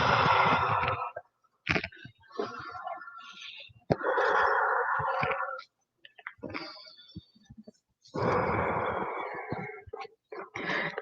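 Deep, slow yoga breathing during a body maintenance session, long audible inhales and exhales in a loose rhythm with silent pauses between them, close and fairly loud with no talk.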